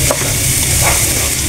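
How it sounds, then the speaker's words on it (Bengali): Raw rice frying and being stirred in a pan for biryani, a close, continuous sizzle with scraping stirs throughout. "দেখেন আমার চালটা ভাজা হয়ে গেছে।"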